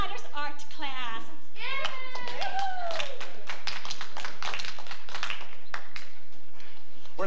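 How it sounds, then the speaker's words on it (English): Audience applause at a high school performance of Grease, clapping and cheering spread across the clip alongside children's excited voices and shouts, with sharp taps standing out above the crowd. "Let's give another round of applause."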